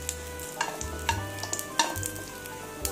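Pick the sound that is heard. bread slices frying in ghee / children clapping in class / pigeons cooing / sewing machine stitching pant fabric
bread slices frying in ghee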